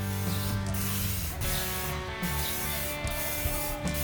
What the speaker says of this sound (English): I spray painted the hammer with silver.